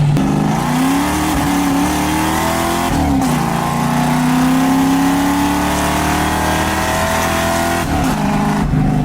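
A car accelerating hard and shuddering through wheel hop, the engine's steady rising drone broken by brief hopping jolts, loud and close with no speech.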